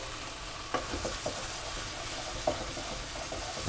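Tomato paste is stirred into sizzling chicken mince in a pan, with a steady close frying hiss and a few soft scraping stirs and clicks of the utensil.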